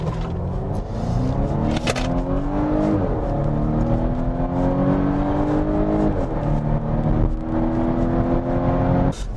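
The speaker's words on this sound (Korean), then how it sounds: "RPM을 높여서 강하게 출발을 했지만 휠 슬립은 일어나지 않았습니다." A Volvo V60 Cross Country B5 with a 48V mild-hybrid system in dynamic mode launches hard from a standstill, its engine note climbing loudly through two gear changes, heard from inside the cabin.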